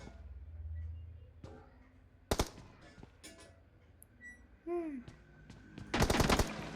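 Gunfire in a shooting video game: scattered sharp bursts of automatic fire and single shots crack out between quieter moments, with a short rising electronic tone in the middle and a heavy final burst.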